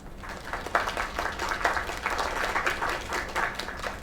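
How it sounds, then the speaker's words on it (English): An audience gives a round of applause for a young singer, dense mid-distance clapping that swells and holds for a few seconds without any voices. "Another round of applause."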